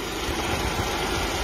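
A Mercedes SLK 230 Compressor petrol engine idles steadily at close range, a continuous low rumble with a broad even hiss and no voices.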